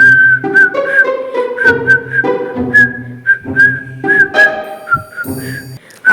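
A woman whistles a melodic tune up close, loud and clear, in short phrases separated by brief pauses.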